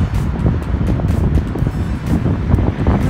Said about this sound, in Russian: а здесь прям ветер завывает